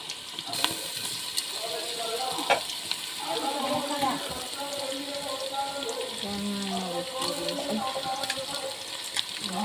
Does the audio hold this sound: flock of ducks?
no